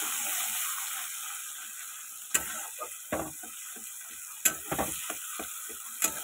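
Taro leaf paste ground with onion, garlic, ginger and green chili sizzles steadily in hot oil, broken by a few sharp clicks and scrapes of stirring, with no talking.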